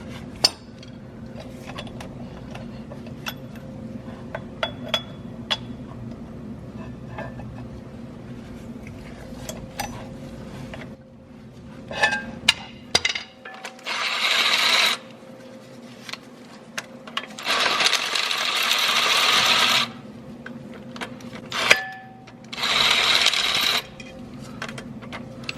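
Breaker bar and 11/16 or 17 mm socket cracking clutch bolts loose on a C4 six-speed transmission, sharp metallic clicks and clinks, then a few louder ratcheting bursts, close up.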